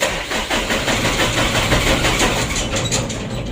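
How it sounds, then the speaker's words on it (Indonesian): A 125 PS Mitsubishi Canter truck engine, one that burns oil, runs steadily with a loud, continuous low rumble and a rough mechanical idle throughout. "Untuk mesinnya sudah hidup."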